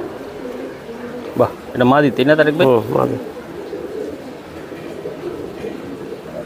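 Racing pigeons keep up a low cooing murmur while someone speaks briefly in the middle, then the soft cooing carries on alone.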